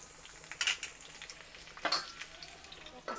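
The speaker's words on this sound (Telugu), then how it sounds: "నూనె వేడెక్కింది మనం ఈ తరిగిన ఆకాకరకాయ ముక్కలన్నీ ఇందులో వేసేయాలి" Chopped spine gourd pieces sizzle faintly in hot oil in a pan, under a steady low frying hiss with a few louder clattering stirs of a utensil against the pan.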